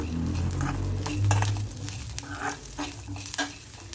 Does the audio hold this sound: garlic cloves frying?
yes